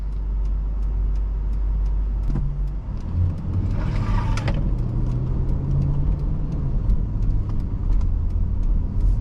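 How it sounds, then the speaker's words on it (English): A 1999 Toyota Land Cruiser, a body-on-frame SUV, drones steadily with its engine held in gear in power mode, a continuous close cabin hum with mild revving and no speech. "as you can see, in power mode, it's holding the gear."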